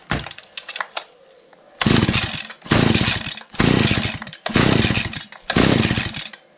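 Stihl FS 40 petrol string trimmer revving in five loud bursts, each roaring up for roughly half a second to a second with short idle gaps between, after a few brief sputters and clicks at the start.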